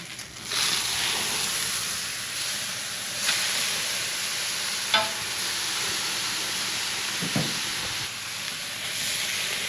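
Food chars in a very hot pan with straight olive oil, giving a steady close hiss and sizzle with a few sharp crackles and pops rising above it.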